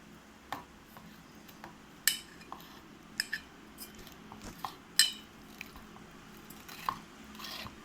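A spoon clinks and scrapes against a bowl while paneer is stirred with lemon juice, with scattered taps and soft squishing sounds at irregular intervals.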